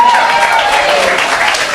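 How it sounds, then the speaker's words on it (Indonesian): A church congregation applauds during a sermon, the clapping brisk and continuous for a short stretch, with a faint voice lingering underneath. "Tepuk tangan."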